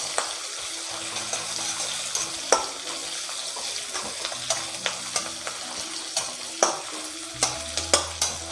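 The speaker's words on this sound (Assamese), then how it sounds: "এতিয়া পিঁয়াজখিনি মই ধুনীয়াকৈ ভাজি ল'ম ৰঙা হোৱালৈকে" Steady sizzling of onions frying in a pan, with scattered clicks and scrapes as they are stirred, no voices.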